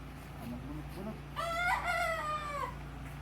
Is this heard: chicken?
yes